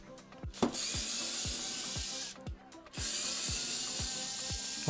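A Vessel ball-grip electric screwdriver drives a thin screw at its lowest torque setting: a close motor whir with steady, evenly spaced clicks and brief pauses between bursts, no voices.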